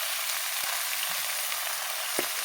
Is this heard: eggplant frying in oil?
yes